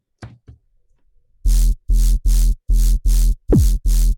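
Two faint short sounds, then six loud, evenly spaced bursts of gritty, distorted sub bass with a white noise layer hissing on top, the fifth with a falling pitch sweep.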